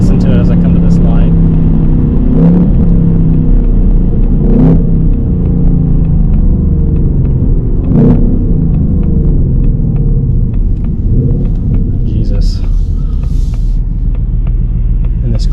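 A 2024 Ford Mustang GT engine rumbles steadily with a few brief revs rising and falling at a stoplight, heard from inside alongside ongoing talk.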